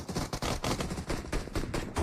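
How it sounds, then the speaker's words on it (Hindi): Rapid gunfire from a battle royale video game crackles in dense, repeated bursts through the whole stretch, with no one talking. "मान्या ने भी कुछ गोलियां दागी"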